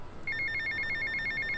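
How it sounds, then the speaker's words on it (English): A phone ringing in GTA Vice City, a rapid electronic trill that starts abruptly and repeats steadily at a moderate level, with no voices. "Hold on, I'm sure this phone call can wait."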